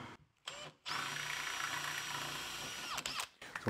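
Power drill boring a small pilot hole into a homemade fishing bait cutting board, a steady whining drone lasting about two seconds after a short start, with the motor winding down at the end and brief clicks around it.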